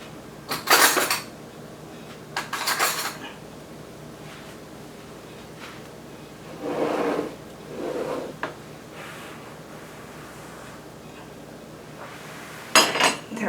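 A spoon is fetched in a kitchen while Mexican meatball soup waits, with a few separate bursts of cutlery and dishes clinking and a drawer knocking, spaced out over quiet background.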